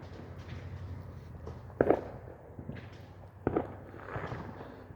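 Fourth of July fireworks pop twice at moderate distance, with a faint crackle after each, over a low outdoor background hum.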